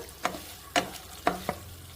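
An egg fry with curry leaves cooking on a low flame in a pan, with four soft, evenly spaced stirring scrapes over a faint, quiet frying hiss.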